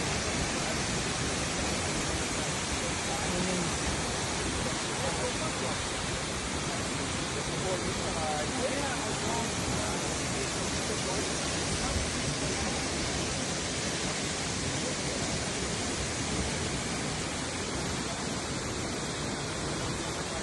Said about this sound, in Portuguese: Cachoeira do Fundão. Magnífica.